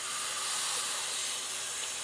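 Steady, loud broadband hiss of steam venting from a pressure cooker's steam port, a paper towel held over it, continuous and close for about two seconds with no talking.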